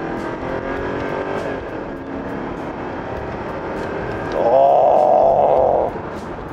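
A BMW 750Li F01 sedan pulls away with a steady engine drone from inside the cabin. Around the midpoint a louder, rising engine tone swells for a couple of seconds as it accelerates, then falls back to the cruising hum.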